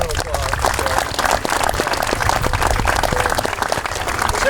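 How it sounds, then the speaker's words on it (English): A crowd gathered for a high school tennis ribbon cutting applauds a coach, steady, close clapping with a few voices mixed in and no pause. "So let's give Randy a round of applause"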